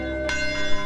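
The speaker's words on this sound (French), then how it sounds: "la même cloche qui sonna ce certain dimanche matin il y a 71 ans, appelant les croyants à venir assister au service, sonne toujours fidèlement actuellement." The bell of the Branham Tabernacle rings alone, a bright, full, resonant tone with a long sustain, struck once and ringing on.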